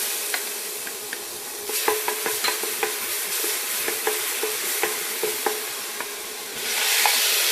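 Garlic stir-fried in perilla oil in a pot for pork kimchi stew, with a steady close sizzle and repeated scraping stirs throughout, growing louder near the end.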